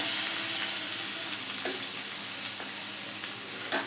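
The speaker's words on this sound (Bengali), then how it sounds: "এটা হালকা আঁচে ভাজতে হবে, বেশি আঁচ দিলে ভেতরটা কাঁচা থেকে যাবে" Pumpkin flowers fry in oil on low heat, giving a continuous, even sizzle up close with a few soft pops and no talking.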